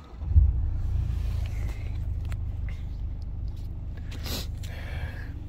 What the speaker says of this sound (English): it's got the start stop button there. Start the car.